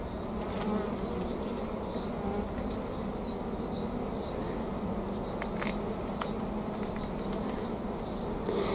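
Honey bees swarm around a comb lifted out of the hive, a dense, continuous buzzing hum close by and loud, with individual bees zipping past now and then and no one talking.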